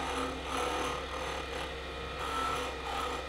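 A skew chisel cuts a wooden two-piece ring turning on a woodturning lathe. The steady, close scraping rasp runs for a few seconds and swells gently in waves, with no talk over it.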